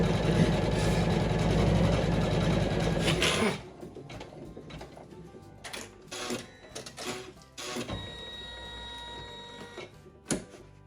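An embroidery machine stitches out an in-the-hoop Easter treat bag design: a dense, steady mechanical whir for about three seconds, then sparse short bursts of stitching separated by quieter pauses.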